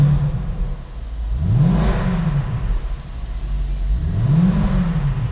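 Cold Mercedes SLK55 AMG with a 5.5L V8, idling with a deep rumble and then revved twice to about 3000 RPM, each rev a quick rising roar that falls back to idle, close and loud.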